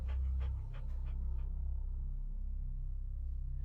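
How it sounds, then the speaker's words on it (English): A giant rat or dog creature in the horror game Bad Dream: Coma pants in a steady rhythmic loop over a low droning rumble, close and continuous, with no talk. "Is this a giant rat or is it a dog?"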